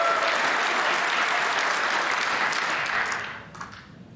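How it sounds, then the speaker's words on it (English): A standing ovation at the Barbican for a snooker maximum 147 break at the UK Championship: dense, loud applause from a large crowd, sustained evenly before tapering off in the final second. "A standing ovation."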